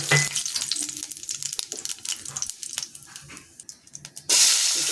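Cumin seeds fry in hot oil after aubergine, a crackling sizzle with scattered pops and stirring knocks, ending in a sudden louder hiss.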